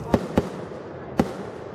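Fireworks burst with three sharp booms, two in quick succession and then one more, heard from a distance at a Halloween-season display in Lewisville; no one talks.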